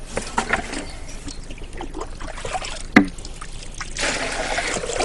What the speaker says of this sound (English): I presume that this is scooping out the water